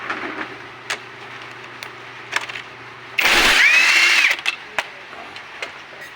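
A power tool loosens a bolt during a brake pad change on a Mio i125 motorcycle, giving one loud close whirring burst of about a second amid quieter clicks and handling noises.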